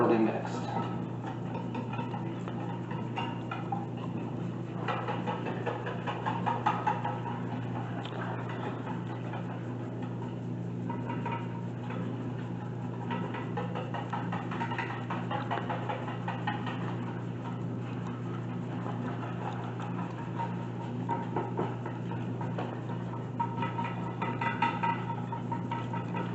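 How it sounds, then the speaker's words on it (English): A whisk stirs a cinnamon and stevia mixture in a bowl for French toast, making quick, light ticking clinks against the bowl under a steady, constant background hum. "I'm just going to whisk it until it's all thoroughly mixed."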